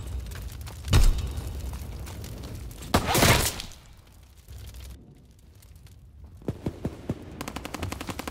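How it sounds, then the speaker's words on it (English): Explosive detonations and gunfire in the Call of Duty WWII video game, a sharp blast followed by a louder booming burst, then a quieter stretch and a quick string of rapid shots near the end. "Explosives ready. Fire in the hole."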